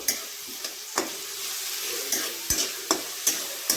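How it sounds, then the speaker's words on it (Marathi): Onions frying in a pan for a dried fish chutney, a steady close sizzle broken by sharp scraping clicks of a spatula stirring every half second or so, with no talk. "आपण कांदा फ्राय करून घेत आहोत"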